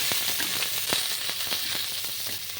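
Chopped onion greens and whites fry in a pan for chilli paneer, giving a steady close sizzle with a few sharp crackles and pops and no voices.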